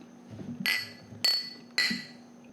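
Beer glasses clinking together in a toast, three separate bright clinks spaced roughly half a second apart over a quiet, low room murmur.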